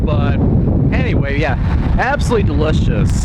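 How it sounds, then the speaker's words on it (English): Strong wind buffets a microphone fitted with a windsock outdoors, a constant loud roaring rumble that runs through the whole stretch while someone talks over it. "Pardon the wind. It is really windy today"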